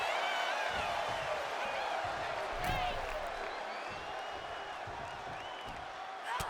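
Arena crowd in the WWE 2K25 wrestling video game, a steady roar of cheering and murmur filling the background while a commentator talks over it.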